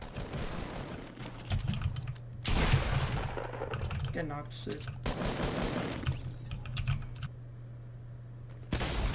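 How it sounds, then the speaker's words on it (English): Loud computer keyboard typing during a Fortnite match, rapid clattering keystrokes in dense bursts mixed with in-game gunfire, with players talking over it. "Sorry for my loud-ass keyboard."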